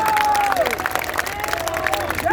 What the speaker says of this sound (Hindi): एक बार जोरदार तालियां भाइयों